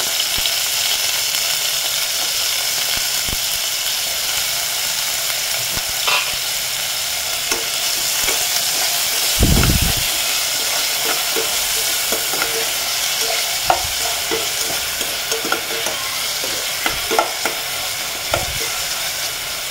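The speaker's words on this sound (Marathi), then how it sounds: "हा कच्चा बटाटा सोलून घेतला आहे आणि त्याचे छोटे छोटे काप करून तुपावरती परतून घेतले" Peeled raw potato pieces frying in ghee in a pan, a constant loud sizzle with scattered clicks and scrapes of stirring, one heavier scrape near the middle, no talking.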